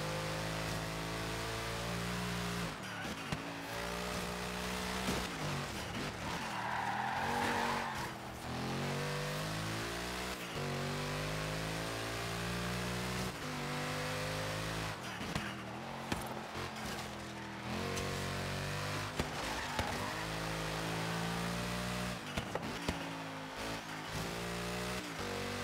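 A Mercedes-AMG GT R V8 roars through repeated revs and gear shifts in Forza Horizon 3, loud and close with rising and falling engine pitch throughout.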